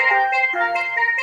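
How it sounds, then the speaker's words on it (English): An iPhone ringtone melody voiced on steel pan, with bright, shimmering metallic notes that ring and overlap in a short, sustained phrase, close and with no other sounds. "Which one sounds better? Steel pan."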